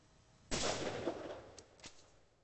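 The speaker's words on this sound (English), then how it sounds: "I'll shoot that green target in the head with my 20 gauge" A single 20 gauge shotgun blast fired at a target cracks out loud and sharp, then decays into a rolling echo with a faint second thump shortly after.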